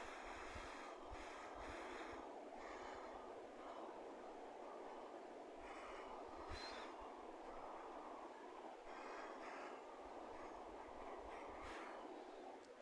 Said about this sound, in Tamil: அதை அதில் சேர்த்துக்கலாம் வெங்காயம் வதங்கட்டும்